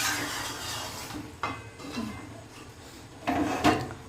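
Braised mutton being poured from a pan into a pressure cooker with potatoes already inside, giving soft scraping and wet sliding knocks of metal and meat, with a couple of sharper clanks near the end; no talking.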